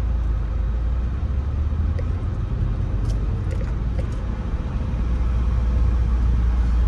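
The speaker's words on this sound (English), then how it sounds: "So if you hear now a steady wind blowing in the background, that's the air conditioner." A car's air conditioner blows on its low setting during a drive along the Flagler Beach, Florida waterfront. It makes a steady, even rush of air over a low road rumble that carries on without a break.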